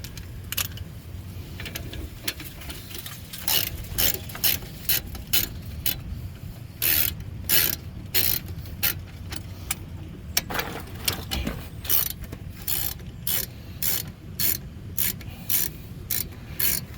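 Ratchet working a 17mm bolt loose on a Ford SUV brake assembly in a driveway, a steady run of close clicking strokes in bursts with pauses and some rubbing metal handling between them.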